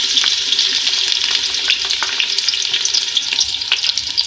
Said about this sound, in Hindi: मैंने 1 कप इसमें घी लिया है और प्याज डालूंगी।